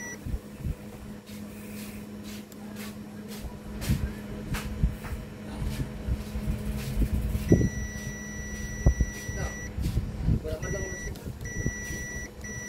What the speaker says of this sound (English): let's set the multimeter to continuity mode and check for any short